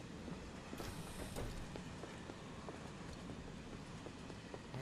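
A moving train in Final Fantasy 7 Remake gives a steady, low, fairly quiet rumble, with faint rhythmic clacks of the wheels running through it and no voices.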